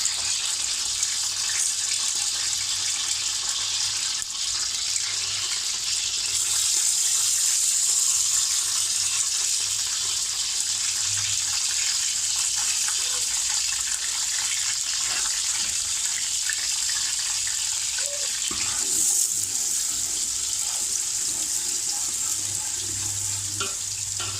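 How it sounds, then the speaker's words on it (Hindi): Onions browning in half a litre of oil with garlic-ginger paste nearby, a steady close hiss of frying that holds for the whole stretch, with occasional stirring knocks. "ये 1/2 लीटर ऑयल है, इसमें प्याज को ब्राउन करेंगे"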